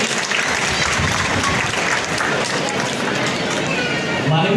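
Applause from an audience honoring students at a Kheda district police felicitation ceremony, a steady dense clapping wash filling the whole stretch at close-to-mid distance, with no speech over it.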